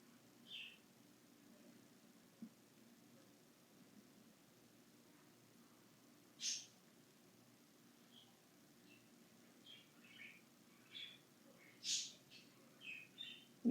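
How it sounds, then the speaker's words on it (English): Faint, scattered pet bird chirps and short squawks pop up intermittently indoors over a quiet background hum, a few sharper calls standing out. "Maybe you hear my birds in the background."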